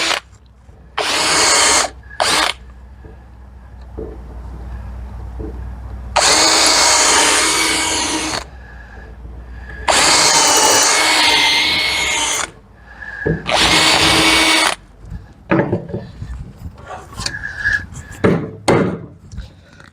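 Loud power drill whirring in several long bursts, stopping and starting, with the bit grinding into wood between pauses while building a workbench.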